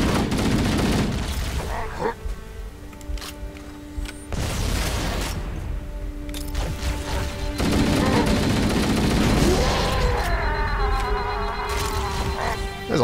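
Gunfire in Halo: Combat Evolved Anniversary comes in intermittent loud bursts and booms, mixed with buzzing weapon and game effects, dense and close throughout.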